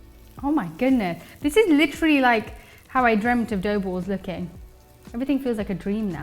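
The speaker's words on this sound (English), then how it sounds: "there's something amazing about sizzle sound" Butter sizzles steadily on vegan dough balls, a soft frying hiss running beneath a woman's excited, continuous talking.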